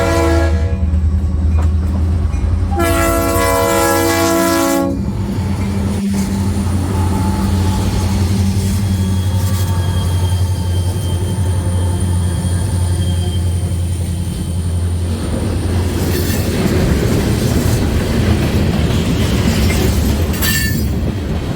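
A Maryland Midland freight pulled by four classic EMD diesels passes close by, sounding a loud multi-chime horn early, then a long steady rumble of engines and wheels with clattering rail noise and a second horn blast near the end.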